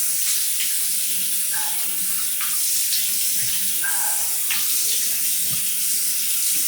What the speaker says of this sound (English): Let me rinse up here.